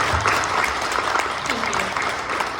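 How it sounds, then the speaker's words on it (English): Round of applause at a student association town hall for portfolio members, a thick wash of clapping with a voice speaking over it. "If you can have a round of applause for my portfolio."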